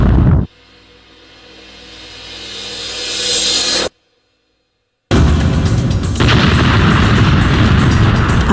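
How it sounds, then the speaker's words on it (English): Airliner crash into an 11-story apartment block: a sudden loud boom and roaring blast that swells, cuts to silence, then returns as a dense, sustained rumbling roar. "El Al 1862 smashes into the 6th floor of the 11-story apartment block."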